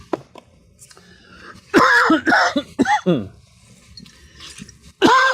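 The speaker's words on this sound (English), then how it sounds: "Now I'm going to cough." Several harsh coughs and throat-clearing bursts close to the microphone, in short clusters separated by quiet pauses.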